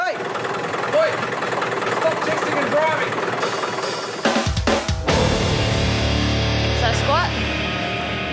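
A continuous low engine rumble runs throughout at a steady idle, with a brief clatter midway and faint mechanical noises on top.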